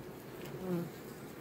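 Honeybees buzz at a hive frame in a soft, steady hum close by, with one bee droning a little louder for a moment.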